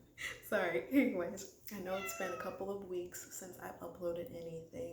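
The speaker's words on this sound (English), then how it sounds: "Sorry, that's my cat." A pet cat meows a few times indoors, the calls mixed in with a person talking close to the microphone.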